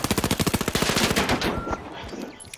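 An automated turret in the shooter game The Finals fires a rapid, loud burst of about a dozen evenly spaced shots that then trails off into fainter, scattered impacts.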